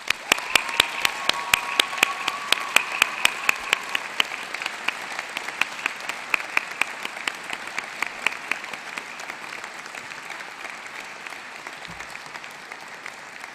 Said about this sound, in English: giving them a great big round of applause